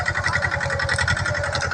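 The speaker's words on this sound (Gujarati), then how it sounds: "સરસ મજાનું નાનું ટ્રેક્ટર છે." A small tractor engine runs in a farm field, a close, steady rhythmic chugging with a fast regular pulse throughout the short stretch, and no one speaking.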